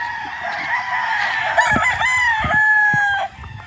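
A young rooster, a stag, crows in a long drawn-out call close by on a farm, with a few faint clucks and thumps beneath and no talking.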